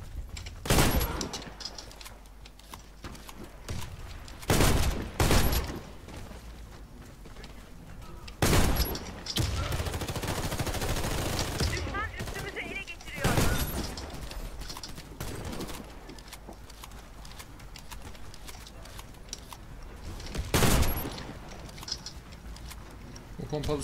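Loud, sharp blasts from a pump shotgun in the online shooter game Warface, spaced irregularly over a busy background of other firing, while someone talks through much of it.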